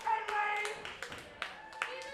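A wrestling crowd claps during a women's tag match, a close burst of several hand claps with a few sharper ones near the end, mixed with voices.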